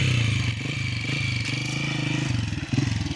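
A motorcycle rolls over a rough, broken road, its engine droning steadily up close with clattering bumps and jolts throughout.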